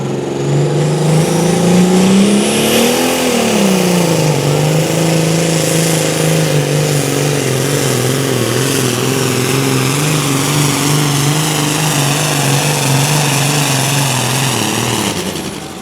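A pulling tractor's engine roars loud and steady at a 2016 truck and tractor pull, with a brief rising rev early on before it holds a sustained drone throughout.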